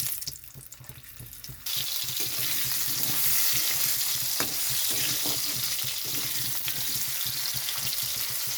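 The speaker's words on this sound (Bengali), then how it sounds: "কড়াইতে দিয়ে দিচ্ছি আলু" Potatoes dropped into a wok of hot oil where fish was just fried, a quieter start then a sudden loud, sustained sizzle close by with faint stirring.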